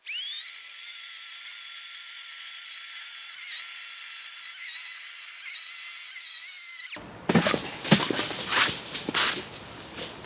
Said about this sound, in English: we'll just run the chainsaw straight across like so